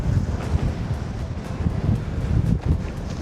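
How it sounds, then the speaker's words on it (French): Strong wind on a snowy mountain trail buffets the microphone in heavy, gusting low rumbles that surge and ease continuously, loud and close, with no voices. "il y a tellement de vent"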